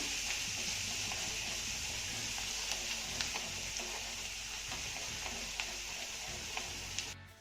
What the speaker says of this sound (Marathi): आता हा लसूण आपल्याला चांगला सोनेरी रंगावर परतून घ्यायचा आहे